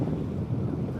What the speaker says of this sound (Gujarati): આ બોટ જાય છે જાફરાબાદની છે